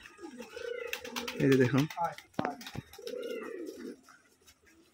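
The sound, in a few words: pigeons cooing while coming onto the hand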